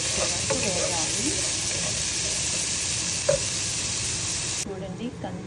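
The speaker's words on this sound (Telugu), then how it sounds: "ఒకసారి ఉల్లిపాయ ముక్కలన్నీ కొంచెం బ్రౌన్ కలర్ వచ్చే వరకు వేయాలి" Onion pieces fry in a pan for a Telugu ponnaganti leaf and toor dal fry, giving a steady, close sizzle with faint stirring scrapes throughout, then it drops slightly quieter near the end.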